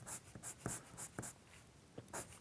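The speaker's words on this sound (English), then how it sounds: "So pulling the pencil from the darkest area and just letting it fade out." A pencil shades across paper in short, soft, scratchy strokes at a steady rhythm, heard up close and quiet with no talk.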